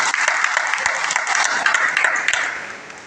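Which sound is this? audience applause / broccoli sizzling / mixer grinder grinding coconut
audience applause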